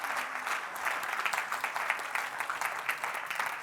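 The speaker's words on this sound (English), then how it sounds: "Go on, you can clap, don't be shy." A crowd at a business success summit claps steadily, a soft, even patter of many hands heard from a distance and holding at moderate volume throughout without other sounds.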